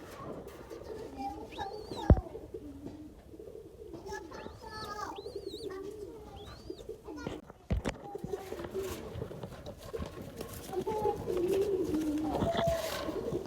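A young Australian dove, about 15 days old and raised by hand, gives several soft coos in a row against a low household background, with a person speaking nearby.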